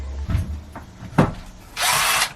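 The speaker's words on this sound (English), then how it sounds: "let's drill." A few scraping knocks, then a power drill whirs in a short, loud burst near the end.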